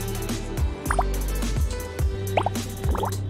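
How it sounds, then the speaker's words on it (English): Drops of red liquid fall into water in a sushi-themed gadget demo, giving a slow series of distinct wet plops and drips, close and fairly loud, with short gaps between each drop. "Now let me take a sample of the red stuff and mix it with the water."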